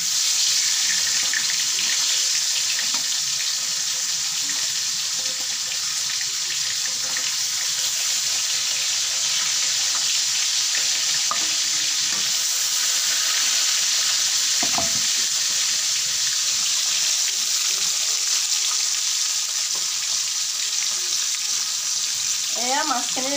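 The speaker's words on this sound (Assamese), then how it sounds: "তেলখিনি খুব ভালকৈ গৰম হোৱাত এতিয়া মই মাছখিনি ভাজি ল'ম প্ৰথমতে" Local fish frying in very hot oil for an Assamese-style curry, a loud, dense, unbroken sizzle heard close up, with a few faint clinks.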